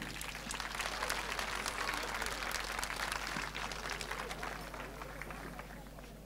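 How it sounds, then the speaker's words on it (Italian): Audience applause fills the space after a staged musical about Saint Roch, dense sustained clapping from a crowd that holds steady for several seconds, then slowly thins toward the end. "Un applauso agli attori"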